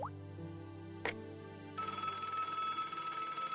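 A telephone ringing in the Broken Sword: Shadow of the Templars adventure game, a clear bell ring with a click partway through, then a brighter steady tone over faint background hum.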